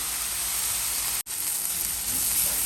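Onions frying in a pan, making a steady, even sizzle and hiss that runs throughout with a brief dropout in the middle; no voices.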